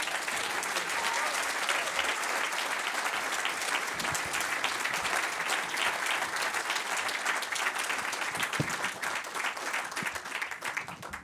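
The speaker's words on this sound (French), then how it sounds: "je vous demanderai de bien vouloir accueillir par vos applaudissements le président de notre parti" A crowd at a political party's economic gathering breaks into loud, continuous applause as party president Éric Zemmour arrives, sustained and dense for several seconds before easing slightly.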